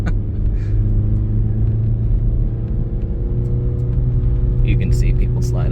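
A 2023 Acura Integra with snow tires climbing a snowy hill, its engine a loud, steady low rumble with a humming drone underneath. Faint tire and road noise runs throughout.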